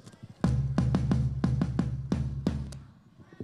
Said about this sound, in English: It's called the bass drum, and it has a very low sound